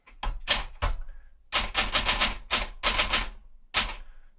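Typing on an Olympia Traveller De Luxe typewriter: close, crisp clusters of key strikes in quick bursts separated by short pauses, with no voices.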